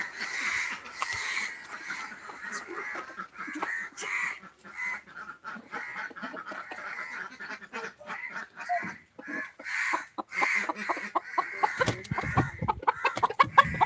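Hens cluck and chatter steadily around freshly laid eggs at a rural poultry spot in Kuttanad, Kerala. The calls are close, overlapping and continuous, with a busier burst near the end.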